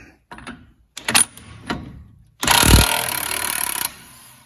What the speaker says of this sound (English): especially with a big impact like this, because it's got a lot of power, this impact